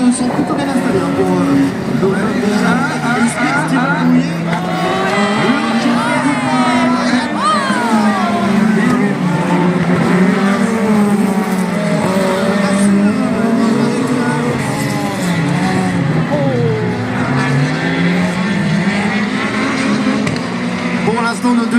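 Rallycross cars race at Dreux, France, including a Peugeot 208 taking the joker lap, their engines rising and falling in loud continuous revs under steady commentary talk.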